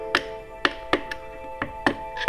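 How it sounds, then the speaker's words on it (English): Spacer being knocked out of a KTM motorcycle's rusty lower shock bearing heim joint, a series of six or seven sharp metallic hammer taps at an irregular, roughly half-second rhythm, close and distinct. "I'll just knock out the spacer on the opposite side now."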